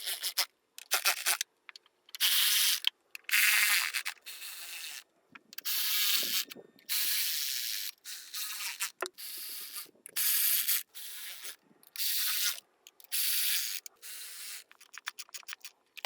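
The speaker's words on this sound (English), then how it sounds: "we're just gonna go ahead and snug them, starting with the middle" Repeated bursts of ratcheting from a hand ratchet snugging the valve cover cap nuts on a BMW M52/M54 inline-six engine, close and fairly loud, with short pauses between strokes and no talking.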